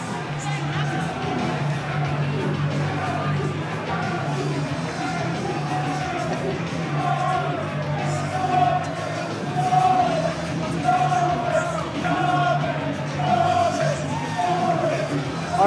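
A live crowd at an MMA event, an XFC fight night, roars and yells steadily, with whoops and shouted calls rising in waves over a constant noisy din.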